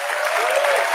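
A crowd at a book event applauds in a dense, steady wash of clapping, heard at a distance for about a second.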